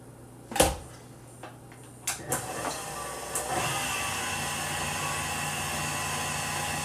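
An electric mixer beats egg whites with sugar for macarons. A few sharp clicks and knocks come first, then a steady whirring drone starts and carries on evenly to the end, with no talking.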